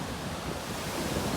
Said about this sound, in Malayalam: ഞാനിപ്പോൾ നിൽക്കുന്നത് കോവളം ബീച്ചിലാണ്